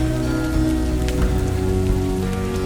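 Steady rain falls on outdoor surfaces beyond a sliding glass door to a porch, a continuous close hiss with no breaks, layered over soft sustained musical tones.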